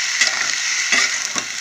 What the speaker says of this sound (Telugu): పోపులు మనకు వేగిపోయి ఇప్పుడు ముక్కలు వేసేసుకోండి